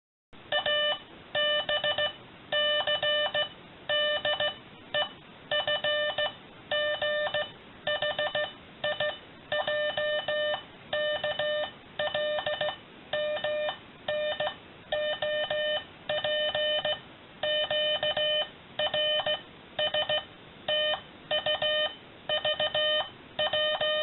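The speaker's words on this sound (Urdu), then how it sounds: "اب ہم آپ کو ہر الفابیٹ کے مورس کوڈ کی آواز سناتے ہیں" Morse code tones sound out each letter of the alphabet in turn: a steady stream of loud, clean electronic beeps, short and long, grouped with brief pauses between letters and continuing throughout.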